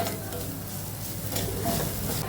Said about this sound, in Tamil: இஞ்சியை நல்லா வதக்கணும், இதோட நிறம் மாறுற அளவுக்கு.